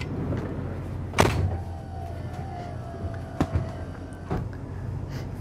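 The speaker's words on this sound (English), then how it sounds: "I'm gonna go ahead and shut that door." An RV entry door on a 2023 Newmar London Aire 4569 motorhome is pulled shut, with a sharp thud near 1.2 seconds and smaller latch knocks later, heard close against a steady interior hum.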